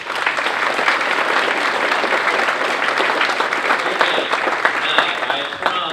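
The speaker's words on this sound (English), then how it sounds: "Please give them a round of applause" A chamber of commerce dinner crowd claps loudly and continuously, a dense close wash of applause with faint voices and a few whoops mixed in toward the end.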